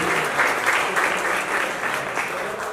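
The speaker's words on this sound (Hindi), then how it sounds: "जोरदार तालियां बजा दीजिए" Lively applause from a crowd at a store launch event for a new Realme smartphone, dense clapping from many people throughout, fairly loud and close.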